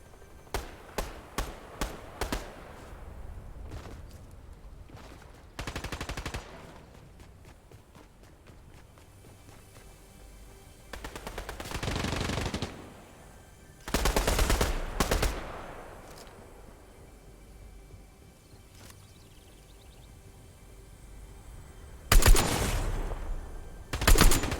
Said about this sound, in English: That's just too many shots.